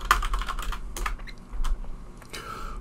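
Quick typing on a computer keyboard, keys clicking in uneven bursts with short pauses between them, close and clear, with no voices.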